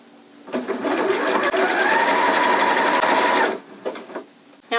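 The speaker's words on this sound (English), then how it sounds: "just sew a few stitches over where you began" A Janome sewing machine stitches a seam on a fabric circle skirt, a close, steady motor whir that rises in pitch and runs about three seconds, then a few short stitch bursts follow.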